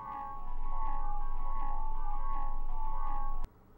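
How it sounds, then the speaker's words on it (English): A bell sample from the I Call It House sample pack rings out as a sustained, shimmering, haunting tone with soft repeating accents, moderately quiet and alone, cut off abruptly near the end. "There's one that I know I like that is a bell sample,"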